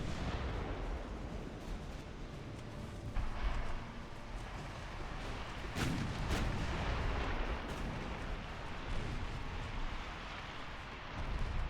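Naval gunfire and torpedo hits rumble through a battleship engagement in Ultimate Admiral: Dreadnoughts, a continuous, fairly quiet wash of deep booms and blasts with a few sharper impacts.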